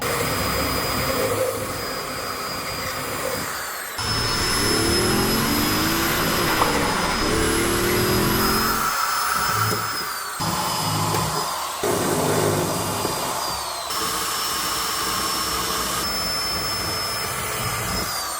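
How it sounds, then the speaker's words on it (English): A power drill whines steadily at close range, its pitch shifting as it bites into metal spot welds on a Nissan Gloria, with brief pauses between bursts of drilling. "I'm gonna go ahead and drill a pilot hole through the rest of the spot welds"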